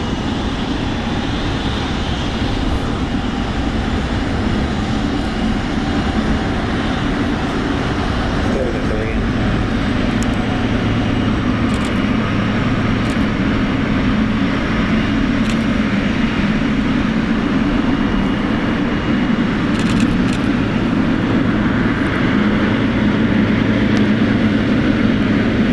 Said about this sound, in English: But there goes that United 777 off to Tokyo Narita.